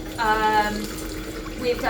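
Warm tap water runs steadily into the plastic reservoir of a water flosser, a continuous splashing fill with a rising tone, close to the microphone.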